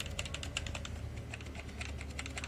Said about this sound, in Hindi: अब जब मैं प्रेस करता हूँ किसी स्विच को